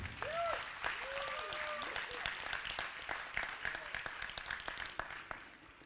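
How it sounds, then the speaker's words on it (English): Applause from an audience at a spiritual lecture event, a steady patter of clapping held at moderate distance, with a voice speaking over the start. "Please give her a big round of applause."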